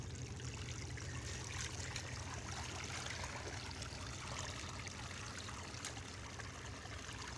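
A strong river current rushes steadily, a continuous loud wash of flowing water with no pauses.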